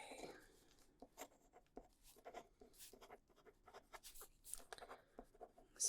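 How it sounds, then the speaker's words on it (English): Pen or pencil scratching across paper while jotting down coffin measurements, a series of short, soft, irregular strokes and taps heard up close and quiet. "Write those down first."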